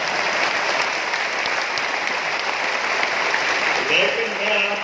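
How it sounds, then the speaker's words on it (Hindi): Audience clapping at a gathering addressed by Chief Minister Mohan Yadav for contract officers and employees, a dense, steady round of applause that stays loud throughout. "ऐसे समय में जब आप ताली बजा रहे तो इतनी अच्छी बजा रहे"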